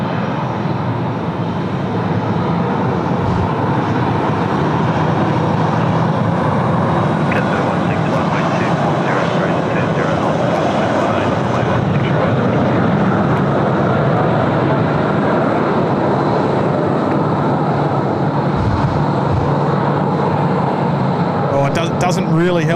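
A Korean Air Boeing 787-10 airliner lands at Sydney Airport in a strong crosswind, its steady broad engine roar filling the whole stretch while someone comments over it.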